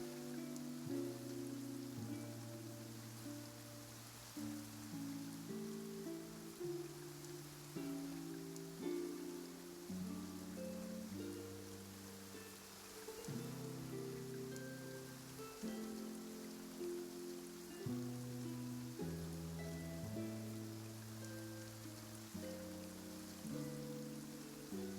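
Rain falls steadily in Genshin Impact, a soft, even hiss continuing throughout beneath a slow, sustained musical score, with no voices.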